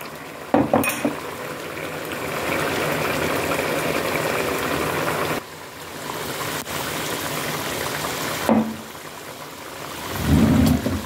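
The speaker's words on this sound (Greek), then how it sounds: "Θα το αραιώσω με λίγο νερό." Water is poured in to thin corn flour for a pork shoulder and vegetable dish. The stream trickles and splashes steadily for several seconds, then there are brief clinks and a final gush.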